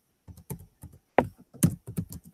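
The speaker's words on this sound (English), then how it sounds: "I'm just going in and typing and changing it." Fingers type on a computer keyboard in short bursts of crisp key clicks, a few quick strokes grouped with brief pauses between, close up and clear with no talking.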